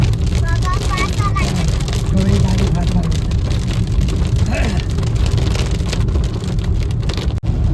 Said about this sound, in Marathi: एक नंबर पाऊस पडतो बघा जबरदस्त पाऊस आहे